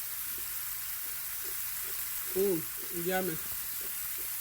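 Roast beef and vegetables sizzle steadily in a pan, a continuous frying hiss running throughout while a voice speaks briefly over it.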